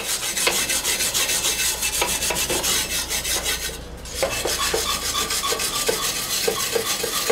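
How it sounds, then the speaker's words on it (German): Baked-on crust is scrubbed off a cast-iron Dutch oven in fast, rhythmic rasping strokes, loud and close, with a brief pause midway before the scraping resumes. "dann machen wir halt das Krustige hier jetzt noch weg"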